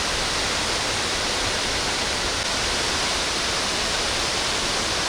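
Loud, constant roar of Tayicsua waterfall on the Bolaven Plateau, swollen at the end of the rainy season, heard from close range as dense, unvarying rushing water.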